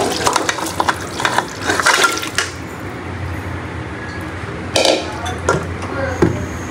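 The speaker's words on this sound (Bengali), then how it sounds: "তো এখন হচ্ছে আমি সবগুলো গোশ এখানে ঢেলে দিব।" Meat poured into a pan of fried spice paste, with wet stirring, scraping and clanking of utensils against the pot, a gentle sizzle in between, and a faint voice in the background.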